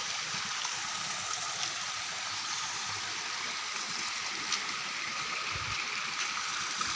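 Water flows steadily in a small stream, a continuous close rushing and trickling wash that holds evenly throughout with no voices.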